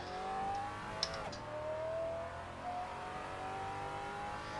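A V10-engined front-engined car in a racing video game drones steadily at high revs, its engine tone rising in long sweeps with a brief sharp click early on, continuous and fairly loud with no talking.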